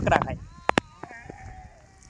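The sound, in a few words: sheep and goats bleating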